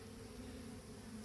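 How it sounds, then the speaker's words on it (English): Bees buzz around a nucleus hive box fitted with foundation frames, making a low, continuous drone that stays faint and even throughout. "we're making the bees run towards that nuke box"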